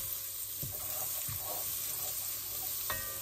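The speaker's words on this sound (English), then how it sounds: "So I'm gonna pop the butter in." A stick of butter melting in a Dutch oven gives a steady, fairly quiet sizzle and hiss, broken by a few soft utensil knocks and scrapes nearby, with no talk.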